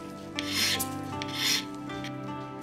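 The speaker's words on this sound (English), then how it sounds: "Roll the file across. Turn the pin vise between your finger and thumb." Close, rhythmic rasping of a file rolled across a clock pin held in a pin vise, a few distinct strokes with a faint metallic ring, heard during a wall clock service.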